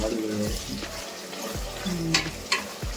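Eggplant fries with masala in oil in a pan, a soft sizzle with occasional stirring scrapes and a couple of sharp metallic taps, fairly quiet and close, with some faint voice in the background.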